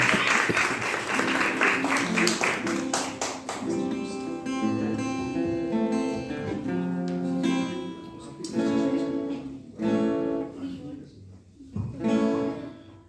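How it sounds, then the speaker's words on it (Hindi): Loud, sustained applause from a crowd at a church branch inauguration in Kishanganj fills the room, with music and voices blending underneath and the clapping swelling and dipping throughout. "जोरदार तालियां बजाएंगे प्रभु।"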